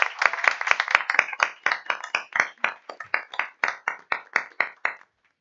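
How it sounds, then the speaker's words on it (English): Applause at a school board of education meeting from a small group, sparse hand claps that start dense and settle into a regular rhythm of distinct claps before stopping abruptly. "So let's just give them a round of applause."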